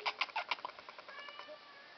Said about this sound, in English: It's my foster cat.